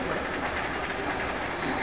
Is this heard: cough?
no